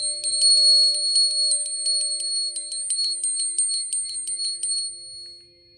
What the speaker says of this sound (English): I'm gonna play a bell.